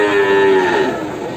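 A crossbred cattle animal gives one long, loud, close moo that slowly trails off over about a second, with no talking over it.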